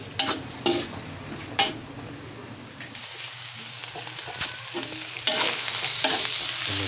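Garlic stir-frying in a pan for pork sisig, a soft steady sizzle broken by several scraping clatters of a spatula stirring against the pan, close and moderately loud.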